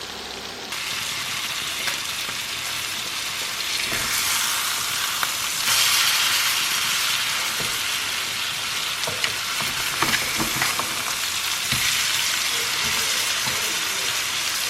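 Salmon cooking in garlic lime butter in a pan gives a loud, continuous close sizzle and crackle with scattered pops and spatters throughout, no voices.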